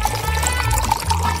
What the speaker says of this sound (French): Et je rajoute de l'eau bouillante.